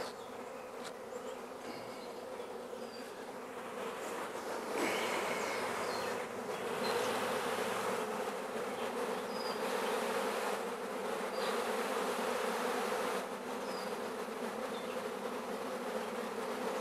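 A swarm of honeybees hums steadily around a hive box for the whole stretch, a dense, continuous buzz that swells slightly midway, with individual bees droning close past now and then and no voices.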